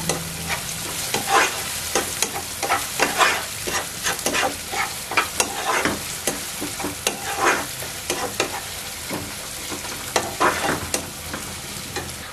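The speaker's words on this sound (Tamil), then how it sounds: "கட் பண்ணி வச்சிருக்க தேங்காய் துண்டுகளை சேர்த்துக்கலாம். சேர்த்து நல்லா வதக்குங்க." Coconut pieces are sautéed in a pan for mutton ghee roast, with a steady sizzle broken by frequent rhythmic spatula scrapes and stirring clatter up close; no talking.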